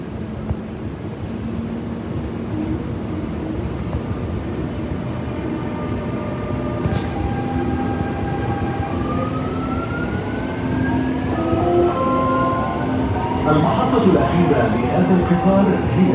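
Dubai Metro train pulling away from a station, heard from inside a Gold Class cabin: a loud, steady rumble with electric motor whines rising in pitch as it speeds up.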